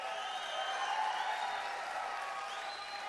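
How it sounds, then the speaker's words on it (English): A rowdy crowd at a Donald Trump town hall in New Hampshire cheers and applauds in a dense, continuous wash, voices blending into a steady distant roar with whoops carrying over it. "I love these rowdy crowds"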